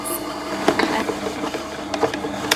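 An electric mixer beats spiced shortbread dough for a handbag-shaped cookie recipe, giving a steady mechanical whir with small bumps and knocks as the beaters catch the dough.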